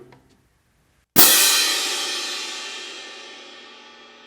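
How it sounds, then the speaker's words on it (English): A single loud crash of orchestral hand cymbals struck together after a moment of near silence, bursting out bright and full, then ringing on with a long, slowly fading shimmer. "For loud crashes, you're going to make that distance even greater before you crash them."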